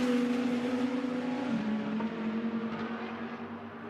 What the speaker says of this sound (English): And there's the LP racing car